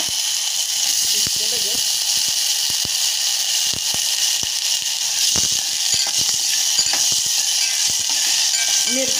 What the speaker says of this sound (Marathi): मी डायरेक्ट बटाटा टाकणार आहे त्याच्यात. बटाटा थोडासा परतून द्यायचा.